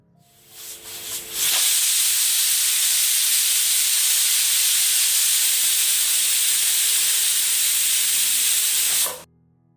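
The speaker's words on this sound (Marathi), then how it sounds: "कुकरला झाकण लावून फक्त दोन शिट्ट्या काढून घेऊयात" A pressure cooker cooking chicken rassa lets out a loud, steady whistling hiss of steam that holds for several seconds before cutting off.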